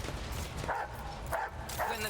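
A dog in the Warhammer 40k Rogue Trader video game gives three short barks in quick succession, spaced about half a second apart, over a steady background of game ambience and voices.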